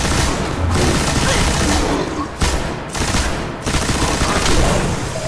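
Dense, continuous enemy gunfire in the Destiny video game: sustained rapid volleys with heavy booms, loud and close throughout, with brief dips between bursts.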